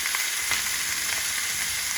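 Ribeye steak sizzling in a hot pan on high heat, a steady loud crackling fry with small pops throughout, close by and with no talking.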